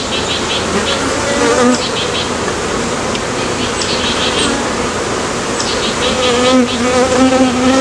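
Honeybees swarm around an open hive during a frame inspection of a single brood chamber, a loud, dense, continuous buzz filling the space close up, with wings rising and falling in pitch as bees fly past.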